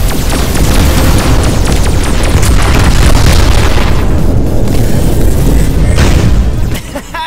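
Bombs explode in the DreamWorks Voltron VR Chronicles game, a loud, dense, continuous barrage of booms and bursts that thins out near the end.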